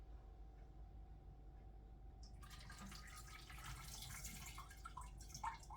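Water is poured from a measuring cup into a pint measure, a soft trickling splash that starts partway through, faint and close over a quiet hum.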